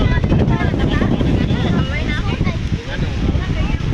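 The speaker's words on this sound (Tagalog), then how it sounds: "Ang lakas ng hangin guys." Strong wind on a mountain buffets the microphone with loud low rumbling gusts while people picnicking talk over it nearby.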